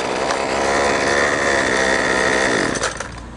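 A small two-stroke engine of a Husqvarna 128 petrol string trimmer starts and runs loud and steady close by, its buzzing drone holding for nearly three seconds before cutting off abruptly.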